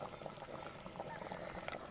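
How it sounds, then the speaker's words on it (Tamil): Thick crab leg curry with ground coconut bubbling in a pot, quiet continuous popping and blipping at a close, low level. "குழம்பு நல்லா கொதிஞ்சிருச்சு"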